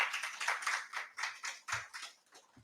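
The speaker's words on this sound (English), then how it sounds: "A round of applause, please." A small group at an HIV prevention conference panel gives thin, scattered applause, a handful of distinct claps that is quiet and sparse and fades out within a couple of seconds.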